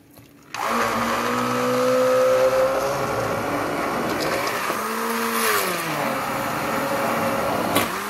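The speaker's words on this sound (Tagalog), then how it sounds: "Ito na yung shorba guys, blender na natin ulit." A kitchen blender purees cooked vegetable soup (shorba), starting abruptly and running loud and close with a whining motor whose pitch dips and rises as the load shifts, continuing steadily to the end.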